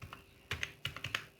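A name is typed on a computer keyboard while a YouTube channel is being set up, making several close, crisp key clicks in an irregular burst with brief gaps between strokes, with no talking.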